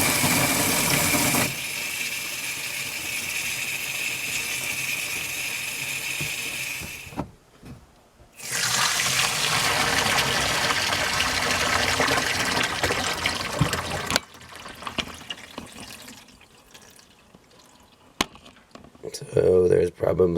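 Water draining out of a leaking boiler expansion tank, a steady gushing trickle that runs loud and close, stops briefly, then resumes before thinning into quieter dribbling.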